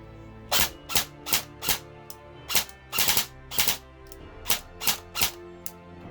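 An airsoft M4 AEG with a ZCI high-torque motor on a 7.4V battery fires a series of sharp, close shots. Single shots alternate with short doubled bursts in an uneven rhythm over a faint background hum.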